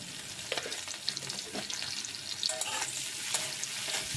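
Chopped onion fries in mustard oil in a pan, a steady soft sizzle broken by scraping stirs and occasional clinks, close and fairly quiet.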